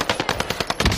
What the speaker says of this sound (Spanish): Escuché disparos arriba, Neto.